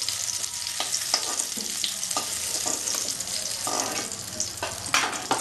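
Potatoes frying in oil in a pan for a Bengali fish curry with pointed gourd, a steady close sizzle broken by repeated clinks and scrapes of a spatula stirring, with no talk.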